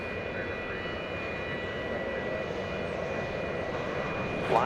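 American Airlines jet airliner taking off at Dallas Fort Worth Airport, a steady, broad engine roar with a faint high whine, heard from a distance and holding level throughout.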